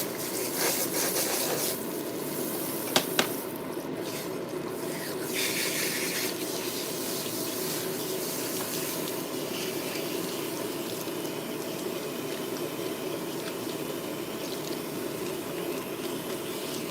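Hair rinsed under cool running water from a tap in a salon, a steady close hiss and splash that runs continuously with a couple of brief knocks early on.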